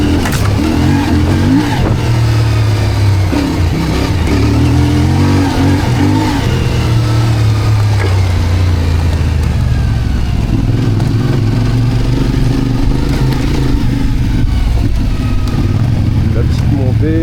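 Trail motorcycle climbing a rocky uphill track in first gear, engine revving loud and steady throughout with rising and falling throttle, close to the rider.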